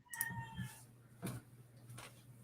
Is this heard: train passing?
no